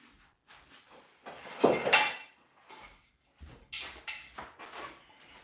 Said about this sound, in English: I'm going to grab another plate to mix on.